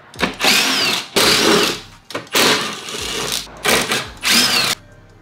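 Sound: power driver unscrewing T30 screws from Toyota Supra MK5 panel

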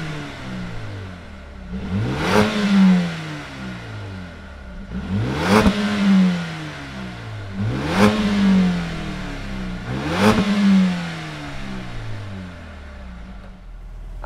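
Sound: 2020 Mercedes-AMG CLA 35 engine starting and revving

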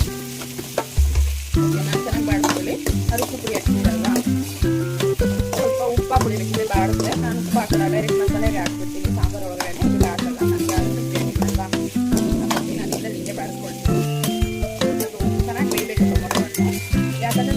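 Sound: sautéing tomato masala in a pan for sambar

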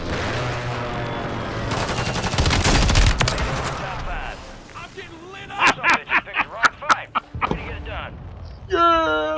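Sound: mortar fire in video game Call of Duty

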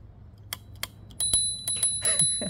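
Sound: scooter handlebar bell ringing

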